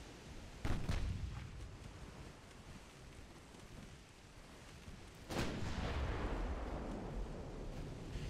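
Battleship main guns fire in the naval warfare video game Ultimate Admiral Dreadnoughts, with two deep, distant booms, each rolling into a long rumble, over steady low background noise.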